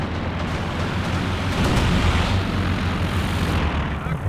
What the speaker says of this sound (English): what were those anti-tank planes even shooting at?